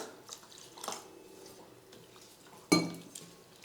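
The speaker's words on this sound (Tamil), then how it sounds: "ஒரே ஒரு முறை தண்ணியில் அவலை கழுவி எடுத்துக்கலாம்" Flattened rice being rinsed in a bowl: water sloshes and drips with a few soft splashes, then a sharper clatter near the end, close and fairly quiet.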